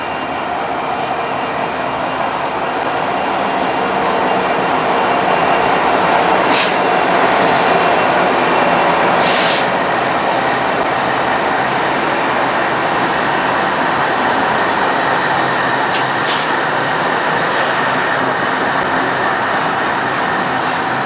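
A short freight train rolls past at close range in Sarnia, Ontario, its steady wheel rumble and car clatter filling the scene throughout, with occasional brief high squeals from the wheels.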